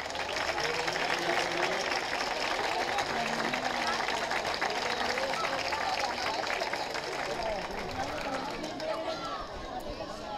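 Neighbourhood crowd applauding a resident at the 50th anniversary celebration of Barriada de la Fontanilla, a dense, steady clapping that runs for about ten seconds, mixed with crowd chatter and voices.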